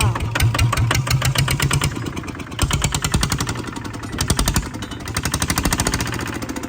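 A small Kubota ZT155 Plus diesel engine chugs with rapid, regular pulsing beats, close and loud, briefly dropping off before resuming its steady idle rhythm.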